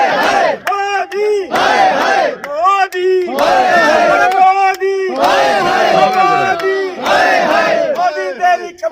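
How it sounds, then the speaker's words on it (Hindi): A large crowd at a rally backing a farmers' protest chants slogans in loud, rhythmic unison, repeated call-and-response bursts with brief pauses between lines, close and energetic. "जिस तरीके से जोश के साथ नारे लगाए जा रहे हैं"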